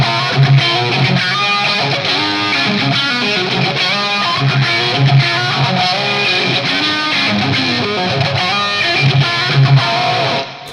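Distorted electric guitar played loud and close through a ToneX amp model with plate reverb, riffing with fast picked notes and chords continuously for about ten seconds.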